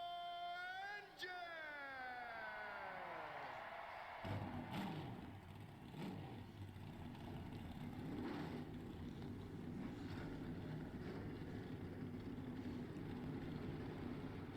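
Pro race truck engines in a Daytona sim racing series fire up after a rising starter whine, settling into a loud, continuous rumbling idle of many engines together.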